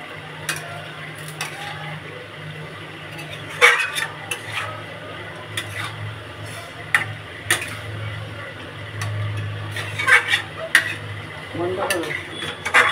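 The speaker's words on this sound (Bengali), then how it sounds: "এখন দেখেন চিকেনটা শুধু ভাজা ভাজা করবো" Chicken is fried and stirred in a pan alongside fried potatoes: sharp metallic clicks and scrapes of a utensil against the pan come at irregular moments over a low, steady background hum.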